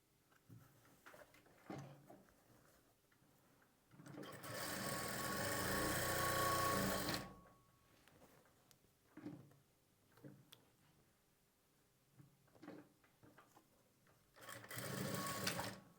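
A sewing machine stitches blouse lining in two bursts, a long steady whirring run followed later by a shorter one, with quiet handling noises and faint ticks between them.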